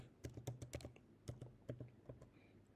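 Typing on a computer keyboard to enter a search term on a membership website builder, with a quick burst of close key clicks, a short pause, then a few scattered keystrokes, fairly quiet.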